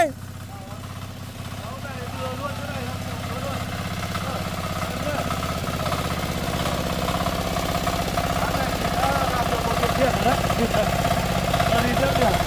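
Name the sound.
tractor engine climbing a mountain slope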